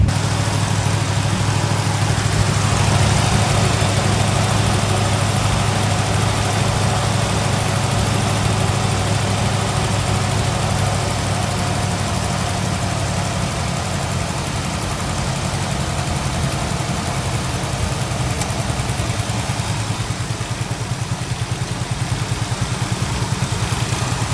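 A rusty Chevrolet Nova engine idles steadily and loudly for the whole stretch, with an even rumble, no talking, and no change in pace.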